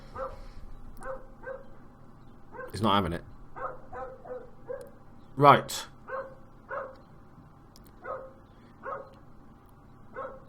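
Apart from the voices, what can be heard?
neighbour's dog barking outside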